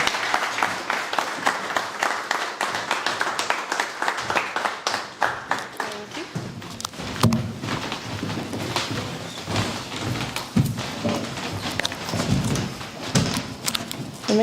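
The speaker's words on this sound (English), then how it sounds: "if we could give them a massive round of applause" Big round of applause from an audience welcoming judges and a host onto the stage at a startup pitch regional final in Manchester, dense steady clapping sustained throughout, with a few louder thumps.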